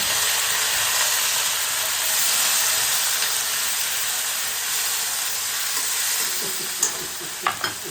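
Tomatoes hitting a hot oiled kadhai on a home stove, a loud steady sizzle and hiss that holds throughout, with a few small clinks and taps near the end.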